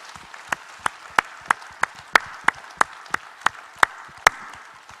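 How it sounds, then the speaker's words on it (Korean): A single person clapping in a steady, slow rhythm of about a dozen sharp claps during a Sunday church service, with quiet room tone between them and no voices. "우리 하나님께 영광의 박수 올려드리겠습니다."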